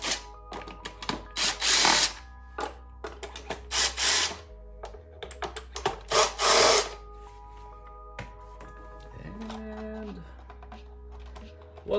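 Screws are worked out of a DIY electric chopper battery pack on a workbench, giving bursts of close whirring and ratcheting tool clicks separated by brief pauses, with a short tonal whine near the end.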